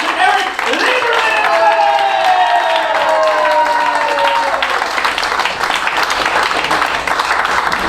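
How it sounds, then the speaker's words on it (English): A stand-up comedy audience claps and cheers to welcome comedian Eric Lieberman to the stage. The applause is loud, dense and continuous, with a sustained vocal whoop rising over it in the first half. "You can't help but clap right now."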